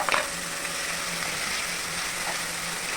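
A spice paste of poppy seeds, melon seeds, green chili, ginger and coconut sizzles in a hot wok, a steady close frying hiss with a sharp burst as it goes in.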